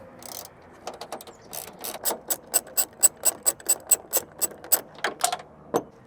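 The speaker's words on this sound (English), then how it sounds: "So we got a 1/4" ratchet, we got a 10mm socket, there's a 10mm bolt at the top and at the bottom of your taillight" A 1/4-inch ratchet with a 10mm socket turns out a taillight bolt on a new Tacoma, with a quick series of sharp, evenly spaced clicks close up.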